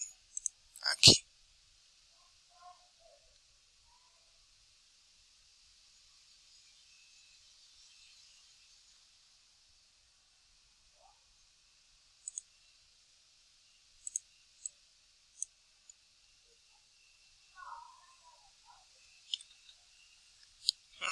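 Sparse, faint clicks of a computer mouse and keyboard during editing, a few isolated taps spread over a long quiet stretch with a steady hiss underneath.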